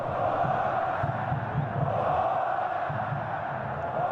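A large football stadium crowd at a Corinthians versus São Paulo Libertadores 2015 match roars and applauds steadily as Corinthians players are substituted, a dense, continuous wash of distant crowd noise throughout.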